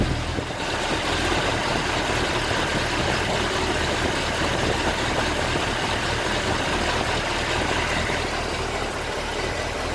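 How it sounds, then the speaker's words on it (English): A car engine idles steadily with the air conditioning switched on, giving a constant, fairly loud mechanical hum and rumble with no change in pace across the whole stretch and no voices. "Engine seems to idle nicely."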